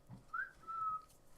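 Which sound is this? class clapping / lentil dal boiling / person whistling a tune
person whistling a tune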